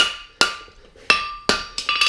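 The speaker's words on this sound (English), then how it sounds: "I'm just going to hit with my hammer parallel to this edge of the anvil and twist the corking on" A hammer strikes a horseshoe corking on an anvil in four sharp metallic taps with ringing decay, spaced unevenly, then a quick double tap at the end, loud and close.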